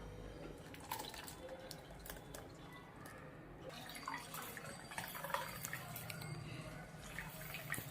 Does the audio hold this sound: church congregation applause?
no